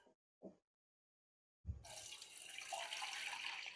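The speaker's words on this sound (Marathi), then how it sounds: "हे चाळणीवर ओतून घेऊयात निथळायला" Soaked barnyard millet rice poured from a vessel into a strainer to drain, a faint splash and clink or two, then a steady trickling, rushing pour of water and grains through the sieve, close and quiet.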